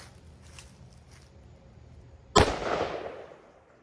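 A single sharp .44 Magnum shot from a 4-inch barrel, loaded with H110 powder and 210-grain bullets, cracks loud and close after quiet ambient noise, then echoes away briefly.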